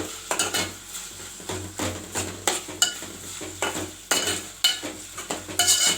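Mutton kulambu masala stirred and sautéed in an oiled pan, a spoon scraping in uneven rhythmic strokes over a steady close sizzle, with occasional metallic clinks against the pan and no talk.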